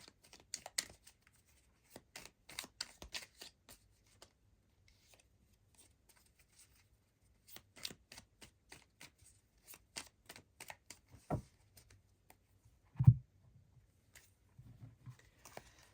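Tarot cards from a witch-themed deck being shuffled: sparse, quiet bursts of papery riffling and flicking separated by near-silent gaps, with one soft thump toward the end.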